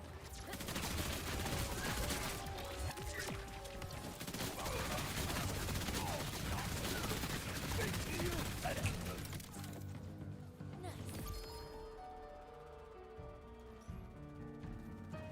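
Pistol fire in a shooter video game comes as dense, rapid bursts between reload and charge cycles for about ten seconds, then gives way to quieter game effects.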